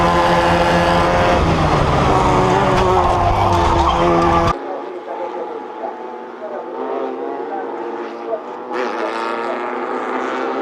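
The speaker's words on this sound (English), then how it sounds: "the BMW rockets into the tyre wall" A BMW rally car skids and slams into a tyre wall, a loud dense burst of engine and impact noise for the first four seconds, then dropping to a quieter rumbling roar with a short jolt near the end.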